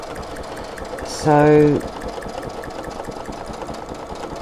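A sewing machine stitches fabric with a ruler foot, giving a steady rapid mechanical hum and clatter close by. A short, louder whirring burst comes midway, and a voice speaks briefly.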